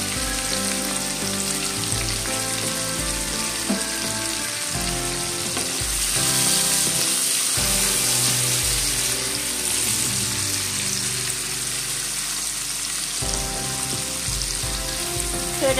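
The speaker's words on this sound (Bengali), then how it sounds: "তো আমি মাছের তেলটার মধ্যে দিয়ে দেবো একটা ছোট্ট পেঁয়াজ।" A small onion frying in fish oil for a fig dish, a loud continuous sizzle and crackle with spatters throughout, no voices.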